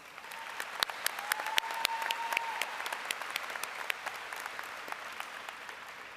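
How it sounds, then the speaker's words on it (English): A high school graduation audience gives teachers a round of applause: sustained, fairly distant clapping from a large crowd, with sharper individual claps standing out from the steady patter. "If we could give them a round of applause"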